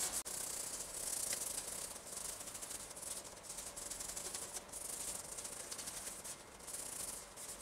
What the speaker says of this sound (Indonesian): ada contoh karat sedikit, saya akan gosok supaya terlihat pudar atau